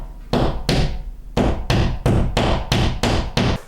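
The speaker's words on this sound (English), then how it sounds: "it just needs a gentle tap and hammering just to get it into the wall" Hammer strikes driving fixings into a stud wall while mounting a floating shelf, about nine sharp, evenly spaced blows at roughly one every third of a second, loud and close with no talk.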